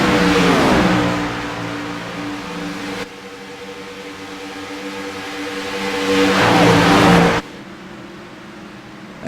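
Gen 6 stock cars racing at Talladega Superspeedway roar past in loud, sweeping engine drones, one car's pitch dropping as it passes, then a quieter gap before another surges by and fades.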